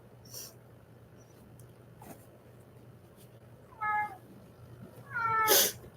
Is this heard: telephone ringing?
no